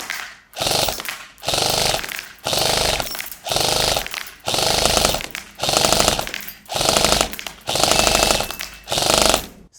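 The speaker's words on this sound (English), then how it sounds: "Let's go ahead and do some full auto." An airsoft gun fires full auto in about nine loud, sustained bursts, each a rapid mechanical rattle separated by short pauses, close and steady with no talk.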